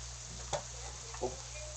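A steak sears in a Granitestone Diamond pan with a steady, close frying hiss, broken by a couple of faint ticks and pops.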